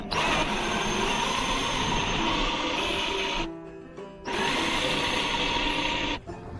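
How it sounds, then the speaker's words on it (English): Large drill bit boring into a soft metal Ram hood ornament, a steady loud grinding whir that stops briefly midway, then resumes and cuts off near the end. "Pretty big drill bit to start with, but it's pretty soft metal too."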